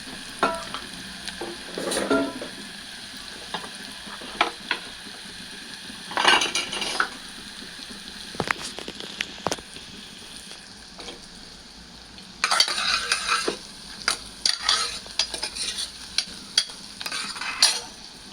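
Chopped onions browning in oil in a home kitchen pan, with a steady low sizzle broken by repeated scraping stirs and clinks of a spoon against metal, and louder bursts of stirring every few seconds.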